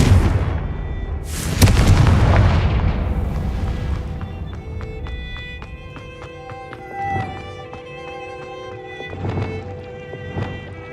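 Fire spells cast in Hogwarts Legacy set off a loud explosive boom early on, followed by a fading rumble, crackling debris and fainter impacts, with a musical game score running underneath.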